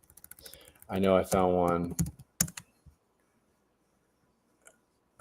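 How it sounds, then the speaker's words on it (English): Fingers tap on a computer keyboard in short bursts of light clicks, first alone and then around a brief stretch of talk, followed by quiet. "let me type in"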